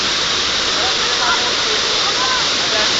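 Water rushes steadily at Bato Spring, a natural spring, as a loud, constant close-up roar with faint voices barely audible beneath it.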